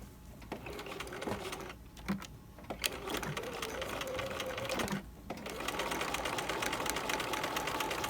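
A sewing machine stitches a trouser fly front through several fabric layers, running in a steady close whir with brief pauses and restarts.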